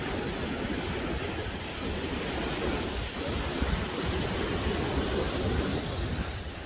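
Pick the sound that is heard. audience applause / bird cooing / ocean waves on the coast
ocean waves on the coast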